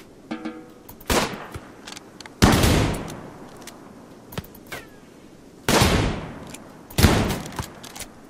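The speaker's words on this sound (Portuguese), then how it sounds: "o Galanael tomou outro tiro" Bursts of rapid gunfire in RimWorld crackle in several loud volleys with brief quieter gaps, plus scattered single shots and a faint ricochet whine.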